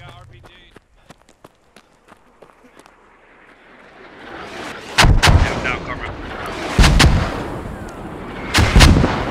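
Artillery guns firing rounds in the video game Squad: heavy deep booms at about five, seven and nine seconds, loud and rumbling, after a stretch of light tapping footsteps and clicks.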